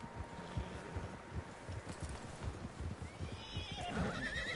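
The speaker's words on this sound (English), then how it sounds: "Horses, quite a few of them." Several horses in Red Dead Redemption 2 neighing and whinnying over steady clip-clop of hooves and wind, a continuous busy outdoor herd sound with no talk.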